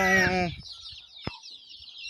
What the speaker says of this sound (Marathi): बघू शकताय आपली गावरान कोंबडी